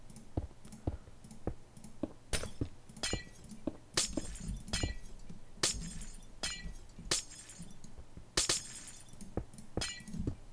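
Repeated sharp glass breaking from blocks being mined in Minecraft, a steady run of crisp shattering clicks at close range, a dozen or more in quick irregular succession over a low ambient hum, with no talking.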